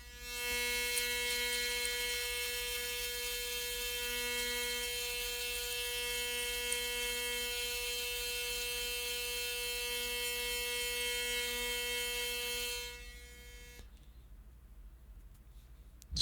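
An electric razor buzzes steadily with a constant, high, tonal drone for about thirteen seconds, close to the ear, then switches off into a quiet room.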